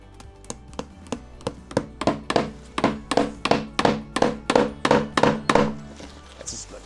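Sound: nailing wire on a handmade broom

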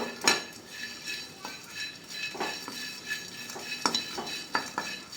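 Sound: shrimp frying and being stirred in a hot pan

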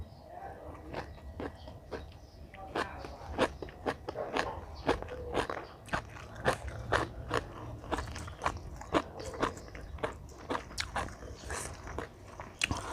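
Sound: eating sour bamboo shoot, crunching and chewing

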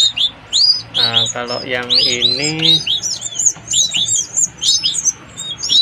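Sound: canary chicks chirping

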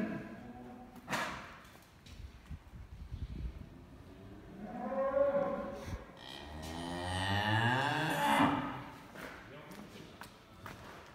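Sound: cattle mooing on a farm

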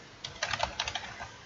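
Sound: typing on a computer keyboard

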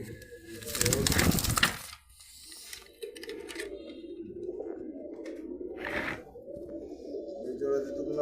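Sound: pigeons cooing (racer, satin, Danish pigeons for sale)

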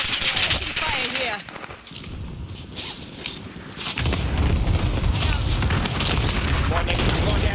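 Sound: cluster strike explosions and gunfire in video game Call of Duty Warzone

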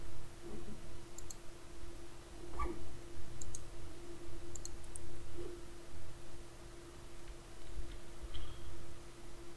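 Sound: computer mouse clicking

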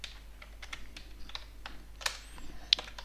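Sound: typing login credentials on a computer keyboard

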